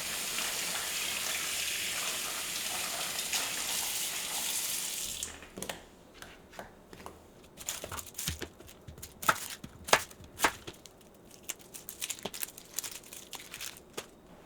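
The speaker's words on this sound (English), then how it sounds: "these all need to be rinsed off from the dirt" Vegetables being rinsed of dirt under a running kitchen tap, a steady stream of water for several seconds, then irregular splashes, clatters and rubbing as the pieces are handled.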